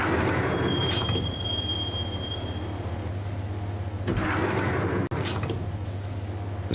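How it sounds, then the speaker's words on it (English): A subway train in the video game Max Payne rumbles steadily along the tracks, with high wheel squeals and clanks rising and fading over a constant low roar. "the train doors had already shut behind me, and I was in for the ride"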